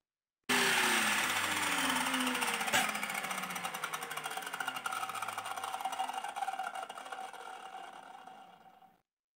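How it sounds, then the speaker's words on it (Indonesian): An Einhill 7-inch metal cutting machine is switched on for a test and runs alone, with a loud whining motor spinning up sharply and holding steady before slowly winding down to silence. "kita akan mengetes saja untuk memastikan keamanan kita ketika kita akan melakukan aktivitas pemotongan besi"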